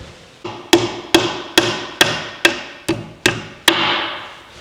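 Nine sharp, evenly spaced hammer blows drive a tapered pin into an IH Scout 800 transmission case, each strike ringing briefly and loud, close up with no talking.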